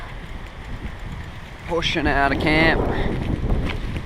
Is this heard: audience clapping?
no